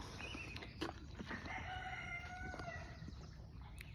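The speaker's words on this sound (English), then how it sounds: "Just listening to the birds and the rooster crow." On a farm in foggy redwoods in the morning, a rooster lets out one drawn-out crow at moderate distance. Faint bird chirps and quiet outdoor ambience surround it.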